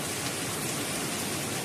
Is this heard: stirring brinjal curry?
no